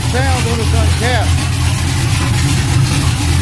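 Loud, steady idle of a race car engine running with uncapped headers, heard up close with a deep rumble throughout and a few brief squeaky chirps early on.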